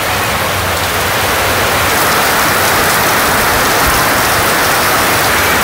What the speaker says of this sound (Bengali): যেমন তো বৃষ্টি হইতেছে আর কি